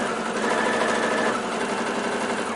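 A sewing machine runs steadily, stitching fabric strips right sides together for a scrappy quilt binding, producing a continuous close, fairly loud motor hum with fast stitching rattle and no pauses.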